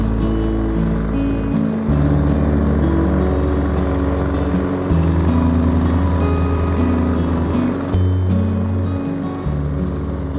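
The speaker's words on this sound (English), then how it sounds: "I'm just going to buzz over it one more time with the lawnmower" A lawnmower runs steadily across a freshly scarified lawn, set high to pick up leftover moss. The engine drones loud and close throughout, with slight shifts in pitch and load as it moves.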